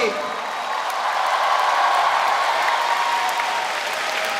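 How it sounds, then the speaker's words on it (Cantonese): Concert audience applauding at a Hong Kong pop concert, a dense steady wash of clapping from a large crowd that holds at full strength throughout. "大家俾最大熱烈嘅掌聲"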